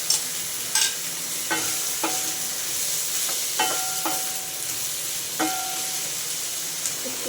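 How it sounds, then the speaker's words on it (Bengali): Eggplant pieces stir-fry in spiced masala in a pan, with a continuous hissing sizzle. A spatula scrapes and taps against the pan in a series of separate knocks, close and clear, and no one speaks. "আমি এবার বেগুনগুলো দিয়ে একটু কষিয়ে নেব"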